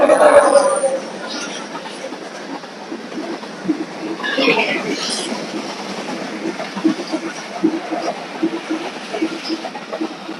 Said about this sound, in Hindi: ये देखें रेल कितना फास्ट जा रहा है यहाँ से माशाल्लाह